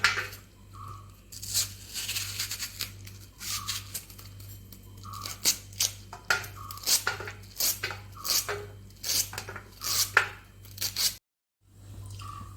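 Peeled, washed taro stems being cut for a lentil curry, giving a steady run of crisp knife chops with clinks and taps on a board or dish, followed by a short silence near the end.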